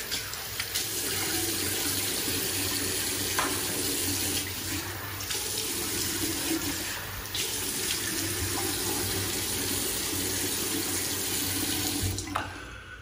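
Tap water runs steadily into a bathroom sink while a face is wetted before shaving, a continuous close splashing flow with a few small knocks and shifts in the stream.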